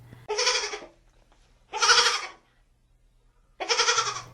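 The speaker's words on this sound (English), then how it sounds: "It's a baby goat." A baby goat bleats three times in short, loud, wavering cries separated by brief pauses, close by and with no talking.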